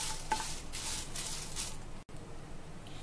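Dried red chillies being dry-roasted and stirred in a pan for sambar and rasam powder, a soft close scraping and faint sizzle with brief stirring swishes.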